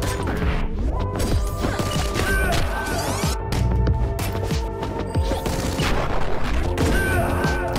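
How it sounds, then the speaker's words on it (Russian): Chaotic explosion and clattering crashes from the video game Katana Zero, dense bursts of smashing impacts and rapid gunfire-like hits over game music, loud and continuous. "Ого, тут взрыв произошел."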